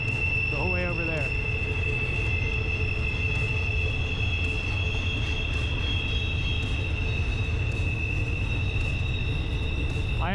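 A train grinds steadily around the tight Horseshoe Curve, its wheels squealing in long high sustained tones over a constant loud rumble of rolling railcars, with no voices.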